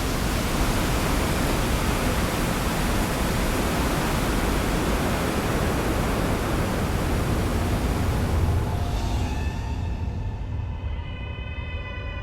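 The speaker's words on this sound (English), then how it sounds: "The world's greatest waterfall is Iguazu" Iguazu waterfall, the world's greatest, roars in a broad, dense, continuous wash of rushing water, loud and steady throughout, with a faint tonal hum emerging near the end.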